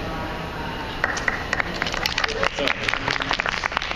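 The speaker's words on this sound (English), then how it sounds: "Please hold the applause" An audience at a VidCon 2017 community session breaks into scattered clapping that builds into a patchy burst while a voice keeps talking over it.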